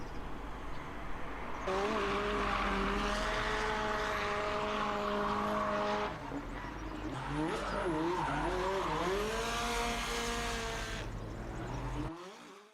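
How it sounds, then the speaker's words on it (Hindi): Toy or kids' race cars whine past with high-pitched, engine-like tones that rise and fall, heard close and continuous with no talking, then stop abruptly near the end. "चलो वैसे एक और रेस हो जाए"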